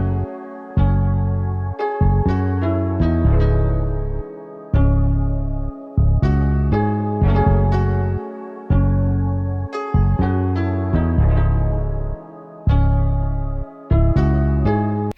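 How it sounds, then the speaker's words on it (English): Producer's beat playing alone, with a bass guitar following the chords alongside piano in a steady, looping pattern with regular bass notes, loud and clear with no talking. "I wanted an actual bass guitar which goes well with the piano"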